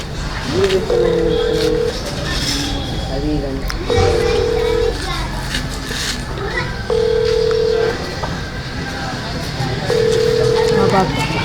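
Phone ringback tones repeat at a steady interval, about four even beeps, while children chatter and play loudly nearby.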